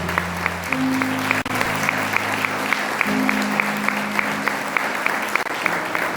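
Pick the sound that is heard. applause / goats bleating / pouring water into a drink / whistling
applause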